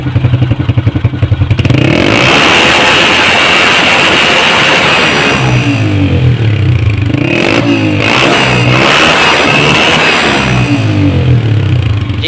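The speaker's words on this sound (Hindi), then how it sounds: "ये बाइक स्टार्ट कर दी है, अब एक्सीलेटर देके चेक करेंगे" A Honda CG125 Euro 2 motorcycle engine, with its misfire fixed, idles roughly, then revs up loudly and holds a high whine, with repeated throttle blips rising and falling close by.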